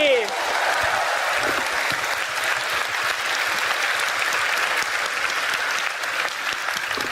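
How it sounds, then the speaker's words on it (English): Sustained applause from a crowd at the Final Fantasy XIV Fan Festival 2023 in London fills the whole stretch, steady and dense, with a faint voice briefly audible at the start. "Can we get a huge round of applause"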